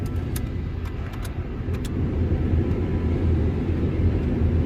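Heater blower motor on a 1999 Ford F250 running, a steady, loud, low-pitched whooshing rumble with faint ticks near the start.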